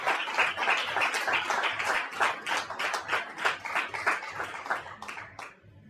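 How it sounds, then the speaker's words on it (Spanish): A church congregation applauds the pastors' children, with many hands clapping in a dense, steady burst that swells and then tapers to a few last claps, close and fairly loud, with no talking. "Y quisiéramos que le regale también un aplauso"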